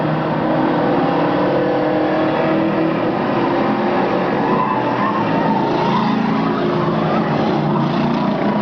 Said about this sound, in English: About a 7-car length lead over second place, Dan Oblinas